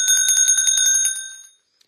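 A small hand bell rings rapidly about ten times in a bright, metallic tremolo, close and clear, then stops and its ring decays into silence.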